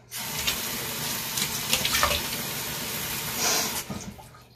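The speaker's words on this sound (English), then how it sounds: "I am just going to do a quick rinse under the sink here" Hands rinsed under a running sink tap, a steady close rush of water with slight splashing shifts as the hands move, continuing almost the whole time before the flow cuts off near the end.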